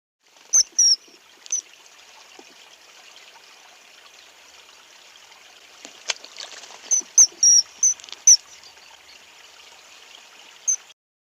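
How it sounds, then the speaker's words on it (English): A kingfisher gives shrill, high piping calls in scattered short bursts, a few early and a quick cluster later, over a faint steady background of running water. "Kingfisher."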